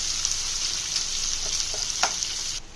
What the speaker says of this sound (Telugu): ఆయిల్లో బాగా మగ్గేలా కలుపుకోవాలి.